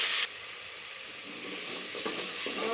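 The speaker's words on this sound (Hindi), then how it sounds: "घी गर्म हो चुका है। अब इसमें ये हरी मिर्चें जिनको नमक लगा के रखा था इसमें ये ऐड कर दी।" Salted green chillies hit hot ghee with a sudden burst, then settle into a steady, soft sizzle and crackle that keeps going quietly with no voices.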